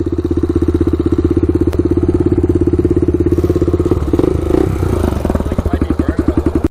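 A Honda ATC 350x three-wheeler engine drones loud and steady as it rides past, its rapid firing pulses clattering and revving before the note shifts and trails off.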